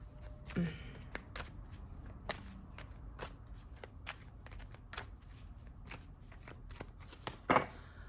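A deck of cards is shuffled, with faint, quick card taps and riffles spread across the clip, plus a brief sharper flutter near the end, quiet and close.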